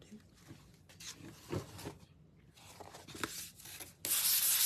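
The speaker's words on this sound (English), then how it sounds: "So I'm just giving it a light sanding." Light sandpaper strokes rub back and forth across a wooden breadboard in uneven bursts, close by, ending in a louder, harsher scrape.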